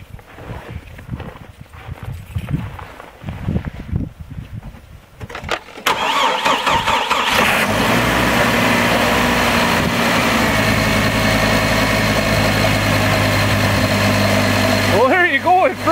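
A car engine cranks over on a repaired 12 volt battery, then fires and settles into a steady close idle after several seconds of quieter background noise.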